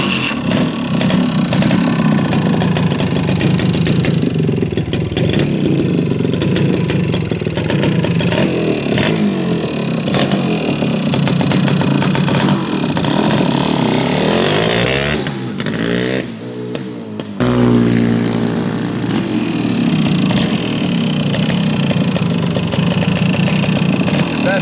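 A 1975 Yamaha DT400 big bore 2-stroke enduro motorcycle runs close by with a loud buzzing drone, revving up and down, while someone speaks over it.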